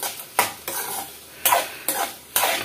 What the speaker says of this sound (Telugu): ఇవి కలుపుతూనే ఉండాలండి